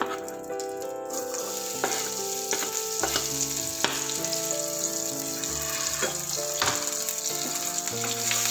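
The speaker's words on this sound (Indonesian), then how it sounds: "kita pakai buat numis bawang bombay dan bawang putihnya" Onion and garlic sauté in leftover butter drippings from roasted meat, giving a steady, close sizzle with occasional stirring scrapes and clinks throughout, no voices.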